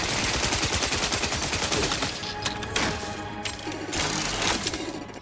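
Rapid bursts of automatic gunfire from a firefight in the video game The Outer Worlds 2, loud and sustained at first, then breaking into scattered single shots and shorter volleys.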